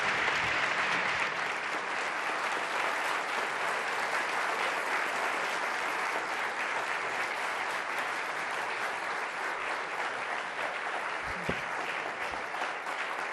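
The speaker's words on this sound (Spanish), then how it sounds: "Un aplauso." Audience applause at an evening award ceremony, a sustained wash of many people clapping evenly for over ten seconds, broad and roomy with no speech over it.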